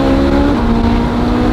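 A Ferrari 458 with a Capristo exhaust revs hard, its loud, steady engine tone holding a high note and then dropping slightly, close and continuous with no talk.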